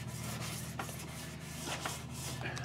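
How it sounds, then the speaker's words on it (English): Wet sandpaper rubbed over filler on a Piper Cherokee wingtip gives a steady, continuous scraping hiss, close and even in level, with no voices. "use the wet sandpaper technique"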